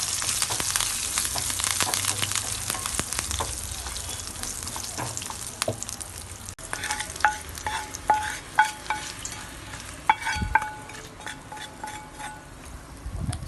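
Garlic, curry leaves and a cut dried red chilli sizzle in hot oil for a chutney, a steady bright crackle that fills the first half, then sparser pops and a few clinks of a spoon against the pan.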